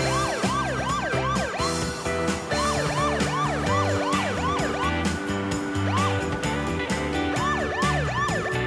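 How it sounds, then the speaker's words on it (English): Wailing police siren added to a low-budget movie scene, its rising and falling sweeps repeating loudly and continuously over a busy music-like background, with no talking. "just because there's a police car in the shot doesn't mean you have to add in a really annoying police siren"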